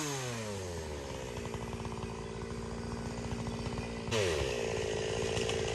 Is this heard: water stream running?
no